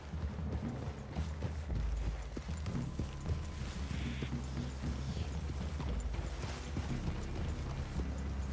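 Horse hooves clip-clopping steadily in the Red Dead Redemption 2 video game, the regular plodding mixed with creaking tack and low game ambience throughout.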